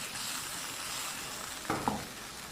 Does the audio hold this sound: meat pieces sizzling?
yes